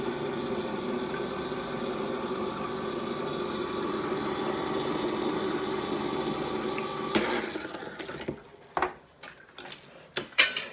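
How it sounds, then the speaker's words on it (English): A can opener works around a metal can of mild chilli, giving a steady mechanical grinding hum for several seconds, then stopping into sharp metallic clicks and clanks as the lid comes free, close and fairly quiet. "So the only way to open it up now is with the can opener."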